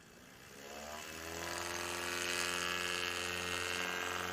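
A Carbon Cub light aircraft at a STOL competition in Sulphur Springs, Texas, its engine opening to full throttle for a short takeoff: a steady buzzing drone that rises in pitch and loudness, heard from a distance.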